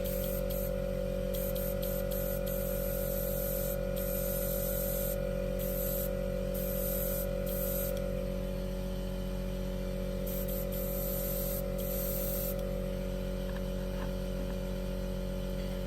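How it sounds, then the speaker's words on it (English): Hairspray is sprayed in short repeated bursts onto model aircraft parts for an F4U-1A, quiet hissing puffs over a steady background hum, with no voices. "I'll just give these a bit of a light coat with hairspray."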